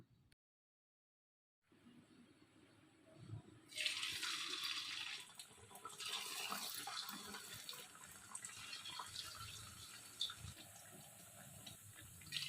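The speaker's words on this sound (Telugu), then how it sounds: "ఆయిల్కి సరిపడా అప్పాలను వేసి ఫ్రై చేసుకోవాలి" Coconut appams dropped into hot oil for deep frying set off a sudden, steady broadband sizzle that continues without a break, close and moderately loud, after a short silence, with no talking.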